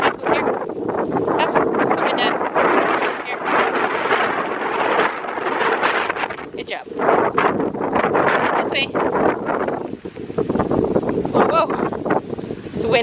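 Strong wind buffets the microphone outdoors on a hilltop during kite flying, a heavy, continuous rushing roar with gusty swells. Voices come and go beneath it.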